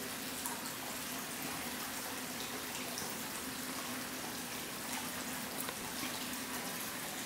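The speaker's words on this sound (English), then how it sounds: "The water comes out of this copper spillway here and just basically pours down into the bowl." Water pours from a copper spillway into the bowl of a standing leaf fountain, a continuous close splashing rush that stays steady and fairly loud throughout.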